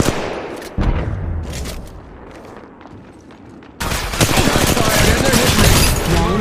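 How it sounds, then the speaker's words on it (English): Gunfire in the Apex Legends Mobile battle royale game, bursts of rapid shots and impacts that drop to a quieter stretch and then return as dense, loud continuous firing; a voice speaks over part of it. "Getting shot"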